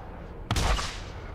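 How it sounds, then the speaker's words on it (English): A rocket bursts in midair in the shooter game Borderlands, one sharp, moderately loud blast that then decays into a rumbling tail. "Why do my rockets explode midair?"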